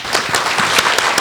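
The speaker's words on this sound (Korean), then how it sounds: "그러면 오늘 자장 역할을 해주실 한장희 교수님을 박수로 모시겠습니다." Loud, brisk applause from an audience at an early Buddhism academic seminar welcoming a philosophy professor, with dense overlapping claps and sharp individual slaps up close, no voices.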